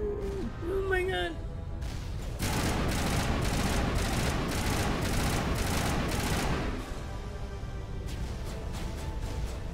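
Rapid gunfire from the game Mass Effect 1 Legendary Edition, with dense, sustained bursts filling the middle of the clip and quieter shots before and after, under occasional talking.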